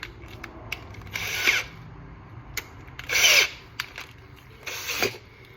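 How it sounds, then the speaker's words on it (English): Three short bursts of a power drill fitted with a 1/2-inch drive impact adapter whirring on a go-kart engine, each about half a second, separated by quieter mechanical clicks and handling noise, close to the microphone. "A drill with 1/2-inch drive, like a drill impact adapter."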